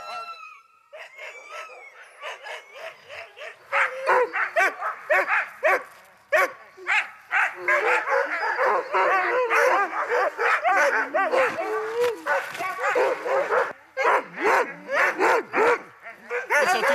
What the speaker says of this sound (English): All the dogs are excited this morning.